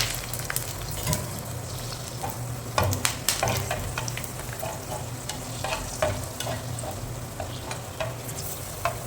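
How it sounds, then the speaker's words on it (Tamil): Sun-dried vathal frying in oil in a pan, a steady close sizzle with scraping stirs and small clatters throughout, no voices. "நம்ம இப்போ ஃப்ரை பண்ண போகிறோம் வத்தல்."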